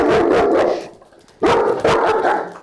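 A leash-aggressive German shepherd barks loudly and close up in two bursts, each made of several sharp, rapid barks, with a short pause between them.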